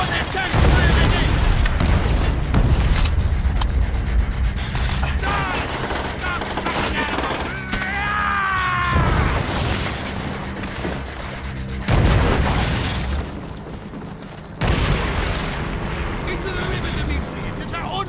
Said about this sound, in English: Before that tank fire again!